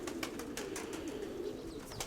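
Pigeons in a loft coo softly in low, rolling calls, faint and close, with light rustling and no talk.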